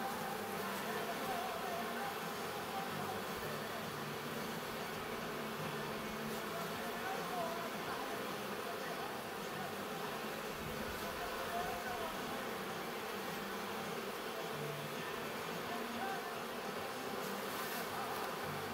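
Honey bees buzz densely around an open hive during queen rearing by the Miller method, with a steady, close, continuous drone filling the whole stretch.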